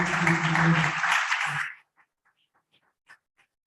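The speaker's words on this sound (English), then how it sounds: "we round up the round of applause for all of the teams" Crowd applause at an African circularity conference, a dense burst of clapping that runs loud for under two seconds, then cuts off, leaving a few scattered faint claps in near silence.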